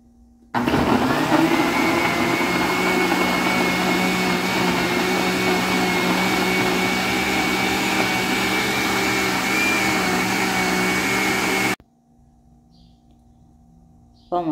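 A kitchen blender whirs loudly and steadily for about eleven seconds, blending blackberries into juice at home, with a sustained motor drone and broadband roar. It then cuts off abruptly, leaving a faint background hum.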